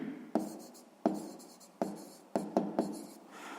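A pen moves across paper during a sixth-grade math exercise, a close series of scratchy strokes that each start with a sharp tap and trail off, about six in an uneven rhythm with no talking.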